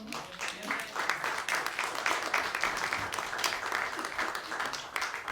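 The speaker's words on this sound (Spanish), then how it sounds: "Démosle un aplauso otra vez a Brian." Congregation applauding during a Spanish-language church service, a steady medium-loud patter of many hands lasting several seconds.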